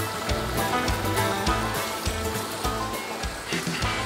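Water gushing and splashing as it is flushed through a tube to drive eels out, a steady loud rushing with choppy bursts, set against a busy outdoor background with no clear speech.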